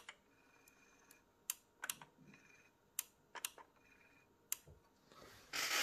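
Front-panel buttons on a Sony TA-F770ES amplifier are pressed one after another, giving sharp, close, irregular clicks scattered over a quiet background, followed by a brief rush of noise at the end.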